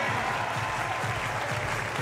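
Audience at the Munich 2022 European Championship men's boulder final applauds as a climber emerges, a steady, dense wash of clapping held at even level throughout.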